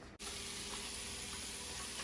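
Food fries in a frying pan with a steady, dense sizzle that holds at an even level throughout, close by and without a break after a brief start.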